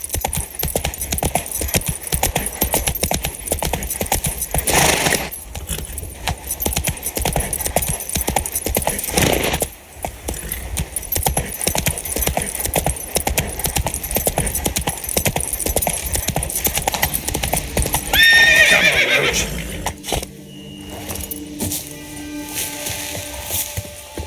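Roach, Geralt's horse in The Witcher 3: Blood and Wine, gallops with loud, rapid, continuous hoofbeats over about twenty seconds, then slows near the end, with brief voices and whinny-like sounds as the ride stops.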